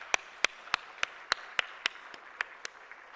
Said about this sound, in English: request you to give a huge round of applause